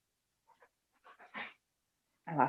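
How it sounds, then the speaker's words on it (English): Dogs scuffle and play in the background of a room, giving soft scattered whimpers and grunts that end in a louder, sharper yelp, with quiet gaps between the bursts. "my dogs are having some sort of a tussle. And it's getting loud."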